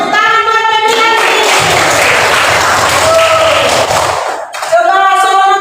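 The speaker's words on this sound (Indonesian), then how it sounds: "Oke, tepuk tangan buat Febrianti." Pupils in a primary school classroom clap for a classmate, a loud burst of rapid clapping in the middle, framed by children's voices and a teacher speaking before and after.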